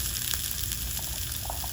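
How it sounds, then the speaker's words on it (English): Vegetables sizzle in a hot pan, a steady close frying hiss with faint crackles over a short stretch, no voices. "You hear it sizzle."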